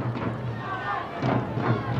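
A big crowd at a Gaelic football match at MacCool Park in Ballybofey makes a steady murmuring roar that swells in a couple of louder surges, with voices mixed into the din.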